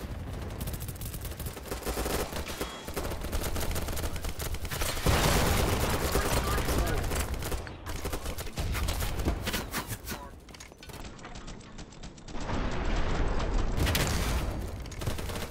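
Sustained automatic gunfire in the shooter game BattleBit, a dense, continuous rattle of overlapping shots and battle noise that stays loud throughout with only brief dips.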